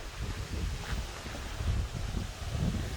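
Wind gusting across a disc golf course in Adelaide, South Australia, a steady low roar buffeting the microphone for the whole stretch, with no voices.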